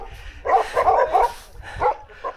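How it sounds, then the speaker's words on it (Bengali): Dogs barking on a snowy mountain road in Auli, Uttarakhand, a cluster of loud, close barks and yips in quick succession followed by a couple more after a short pause. "উফ, কুকুরগুলো এত চিল্লাচ্ছে কেন?"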